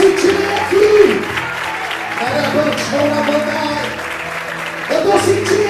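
A church congregation claps together during a morning service, steady applause that is fairly loud and close, mixed with voices and singing in the room.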